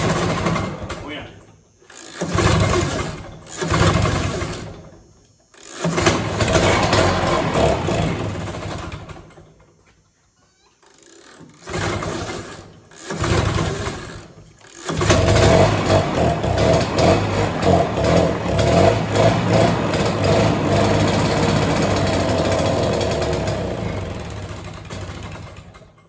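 A 1960s Ski-Doo Twin-Track snowmobile engine cranks in several short bursts, stalls, then catches and runs with a loud, rattly two-stroke buzz that holds steady to the end.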